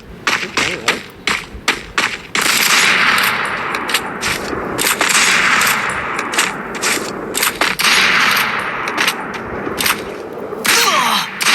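Gunfire in the Free Fire video game from an M90 and a sniper rifle, with rapid cracking bursts and metallic clangs over dense game noise while someone talks.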